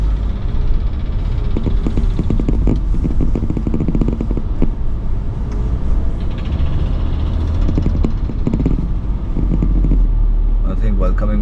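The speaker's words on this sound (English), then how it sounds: "have to skip this traffic." Busy road traffic with cars and a large lorry passing close by, a steady loud rumble of engines with clattering mechanical noise and occasional revving, voices faintly mixed in.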